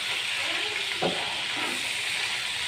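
Pangas fish frying in oil in a pan, a steady bright sizzle and hiss running throughout, with a brief louder crackle and stir around the middle.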